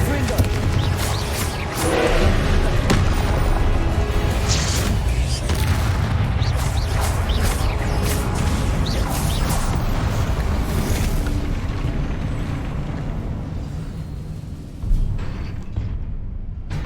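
Confringo spell explosions go off in Hogwarts Legacy, loud booming blasts layered over dense, chaotic combat noise that carries on for many seconds, with a sharp burst near the end.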